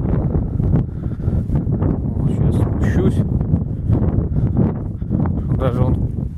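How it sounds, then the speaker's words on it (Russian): Strong gusting wind roars across a microphone outdoors by a lake, a loud steady low rumble throughout, with a person talking over it. "Но ветер действительно сильный."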